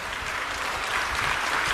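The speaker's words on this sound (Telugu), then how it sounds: "గట్టిగా చప్పట్లు కొట్టి ఆనంది" A church congregation listening to a sermon claps hard and steadily in unison, a thick wash of hand claps that holds at an even loudness throughout.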